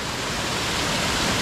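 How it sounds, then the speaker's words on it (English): A small coastal waterfall fed by recent rain rushes in a steady, dense, close-up roar of falling water, constant in level with no voices. "after a little bit of rain, you just come and find these beautiful waterfalls"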